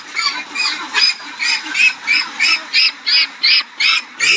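Pekin ducks quacking close by, a run of about a dozen loud, evenly spaced nasal calls that grow steadier toward the end.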